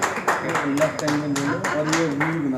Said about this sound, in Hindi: जोरदार तालियां, जोरदार